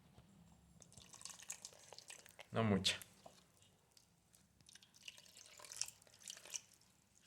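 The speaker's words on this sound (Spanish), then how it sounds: "procederé a vertir agua sobre la maicena" Water being poured from a container onto cornstarch, a brief splashing gush of about half a second, set among quiet background and a few soft spoken words.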